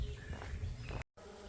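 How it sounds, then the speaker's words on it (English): Bees buzz faintly at a picnic area beside a trail, a soft continuous drone broken by a brief dropout before resuming. "I know you can see some bees, but can you hear that?"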